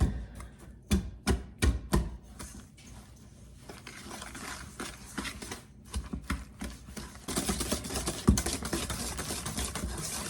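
Banana bread batter with vanilla being mixed in a bowl: a run of sharp, close knocks and taps from the utensil, then softer, denser scraping and stirring that grows busier toward the end, with no talking.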